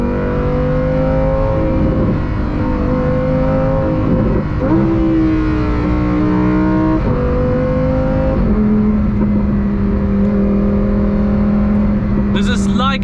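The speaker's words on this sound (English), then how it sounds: "I can hear the engine from behind screaming all the time" Lamborghini Huracan STO engine revving loudly behind the cabin while driving, a continuous screaming drone that climbs and drops in pitch through several gear changes, heard from inside the car.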